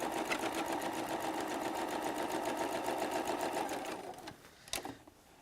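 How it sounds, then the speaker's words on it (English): A sewing machine runs steadily while joining two quilt blocks, a fast even rattle of needle strokes close by that stops near the end, followed by a couple of handling clicks. "we are just sewing these 2 blocks together like we just did with the other 2"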